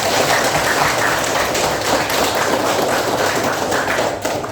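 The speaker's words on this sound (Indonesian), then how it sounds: "Tepuk tangan untuk Bunda Tati" A group claps at a school session, a dense burst of hand claps that keeps up evenly for about four seconds before easing off slightly at the end.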